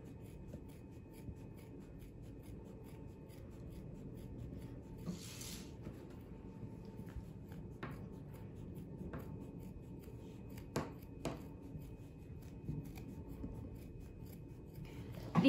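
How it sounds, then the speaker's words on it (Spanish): Scissors trim excess fabric from a sewn hen-shaped bag holder, with quiet intermittent snips and rubbing of material against a low steady background, a few sharper cuts standing out near the end. "Ahora vamos a recortarle un poquito el excedente de material"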